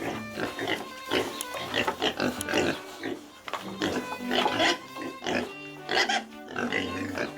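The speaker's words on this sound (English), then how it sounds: "these once tiny piglets, weighing just over 1 kilogram, grow into massive giants, tipping the scales at 110 to 130 kilograms" Pigs on a commercial pig farm grunt and oink in a busy, overlapping chorus, with bursts of squealing and snorting near and far throughout.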